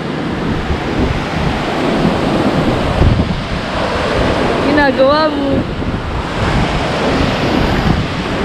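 Strong surf and gusting wind roar steadily at Balagbag Beach in Real, Quezon, on a rainy afternoon, with wind buffeting the microphone and a brief voice speaking over the crashing waves.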